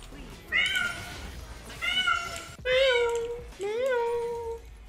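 A house cat meows four times in a row, loud and close, each call rising and falling, with short pauses between them and no other sound.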